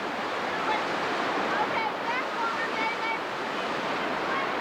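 Whitewater rapids on the Youghiogheny River at Dimple Rock, a steady broad roar of rushing water with faint voices mixed in, continuous and moderately loud.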